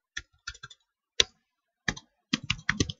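Computer keyboard typing on a Windows PC during a Laravel 5.4 install, in a few short bursts of close, crisp keystrokes separated by pauses, with one sharp louder key click in the middle.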